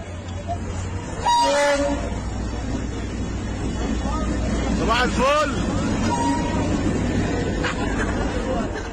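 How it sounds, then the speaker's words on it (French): A fan's air horn blares in bursts over a noisy crowd, with a second wavering blast midway and a fainter honk near the end. "Il y a toujours un fan qui dérange tout le monde avec son stupide klaxon."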